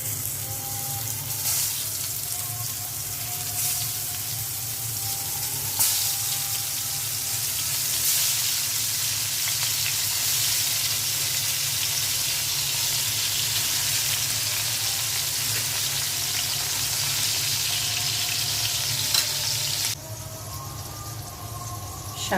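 Kakrol (pointed gourd) rubbed with ginger, garlic, cumin, salt and coriander sizzles steadily in hot oil, a loud continuous frying hiss with occasional splatter pops throughout.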